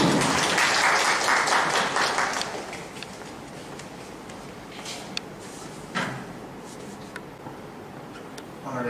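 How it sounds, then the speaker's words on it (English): Audience applauding a welcome address at a startup event, a dense burst of clapping for roughly two seconds that fades into scattered claps and light room noise. "Please give a huge applause."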